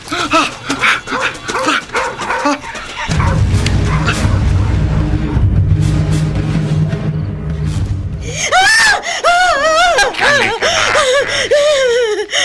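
A woman screams repeatedly in shrill, wavering cries in a Filipino horror radio drama, with a dense music passage in between before more screams at the end.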